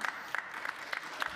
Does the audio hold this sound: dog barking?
no